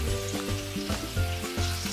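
Chicken piccata sauce simmers and reduces in a pan, a steady close sizzle and bubbling with soft rhythmic stirring scrapes running throughout.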